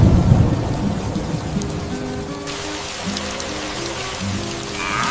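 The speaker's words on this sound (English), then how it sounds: "The rain is almost gone." Steady rain falls on a surface while a low rumble of thunder rolls underneath, loud at first and then easing into a softer, continuous patter.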